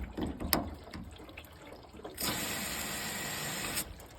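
Water runs through an LG washing machine's weak cold-side inlet valve, starting suddenly as a steady, fairly faint hiss and stopping abruptly a second and a half later, after some quiet handling noise.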